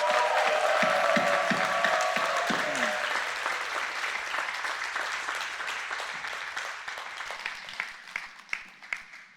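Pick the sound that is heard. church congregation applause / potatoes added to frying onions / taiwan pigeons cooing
church congregation applause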